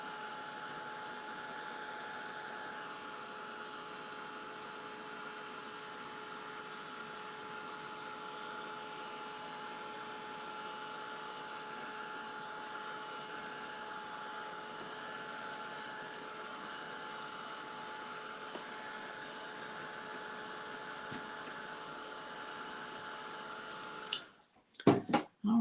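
A steady, low-level blowing hum runs unbroken for about 24 seconds as a paint coating on a hymn page is dried, ending with a few clattering handling noises.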